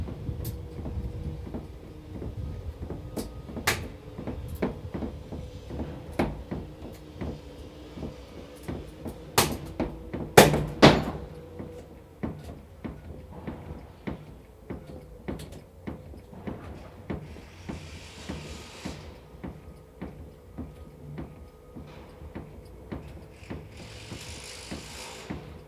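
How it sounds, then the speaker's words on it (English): A hydraulic Rabbit tool is pumped to force open an inward-opening door, giving repeated creaks, clunks and sharp cracks of the straining door and frame at close range, with a loud snap midway and rustling afterward. "On Tim's cue, we're going to start pumping the Rabbit tool."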